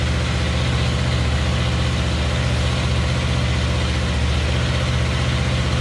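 A Kawasaki Eliminator motorcycle engine idles steadily during a sound check, a constant low throbbing hum with even pulsing, close and unchanging throughout, with no talking.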